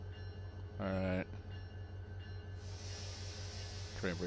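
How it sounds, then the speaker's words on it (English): Air brakes on a train in the Run8 Train Simulator game release a sudden, sustained hiss partway through, continuing to the end over a low steady hum, with a brief voice heard before and after. "Train brakes on."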